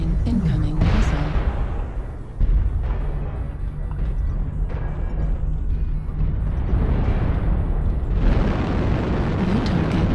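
A missile explodes in a video game with a heavy, rumbling boom, followed by sustained low roaring blast noise across the clip, with a second loud burst swelling near the end.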